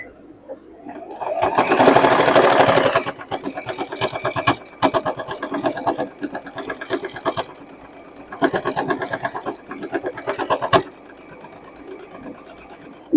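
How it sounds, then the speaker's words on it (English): A sewing machine stitches a circle bag gusset, running loud and close in a steady buzz, then continuing in several shorter stop-start bursts with brief pauses between them. "Then you just want to stitch it."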